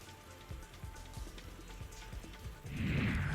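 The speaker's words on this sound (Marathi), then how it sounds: "नाशकात अवकाळी पावसाने हजेरी लावली आहे" Unseasonal rain falls in Nashik, soft raindrops pattering steadily on a surface at close range, with a rushing swell of heavier rain building near the end; no voices are heard.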